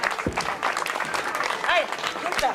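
Audience applause at a circus ring show as big cats take a lap of the ring, moderately loud clapping with brief whistle-like tones and some voices mixed in.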